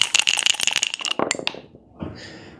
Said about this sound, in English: So let me do a little bit of dice shaking here by the microphone.